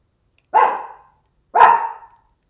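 A dog barks twice, sharp and close, about a second apart, with silence around each bark.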